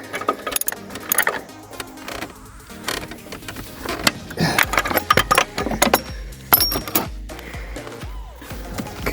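A regular-size wrench tightening the O2 sensor on a 2015 Chevy Sonic LT, short metallic clicks and scrapes in irregular bursts, close up, with faint background noise.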